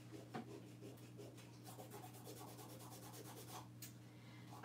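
Paint being rubbed off a wooden piece by hand: quiet, repetitive back-and-forth scrubbing strokes in a steady rhythm, close and fairly soft, with a small knock near the start and no talking.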